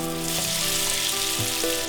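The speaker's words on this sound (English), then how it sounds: "he's gonna put it directly into our hot oil" Battered fish dropped into hot oil sizzles with a loud, steady crackle and bubbling hiss, with a few brief lower thumps and shifts as pieces settle, close up and without talk.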